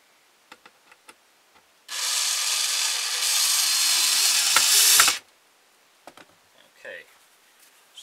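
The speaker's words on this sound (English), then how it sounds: "we're going to shave this down now" A blade shaving down wood on a carved ventriloquist dummy figure held in a vise, a sustained rasping scrape lasting about three seconds, loud and close, framed by faint scattered taps and knocks before and after.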